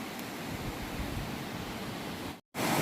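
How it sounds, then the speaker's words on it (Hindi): A mountain waterfall beside a trail near glacier-fed lakes roars as a steady, loud broadband rush that fills the scene, cut off by a brief silent gap near the end before resuming just as strongly. "इस जगह पे वाटरफॉल चेक करें"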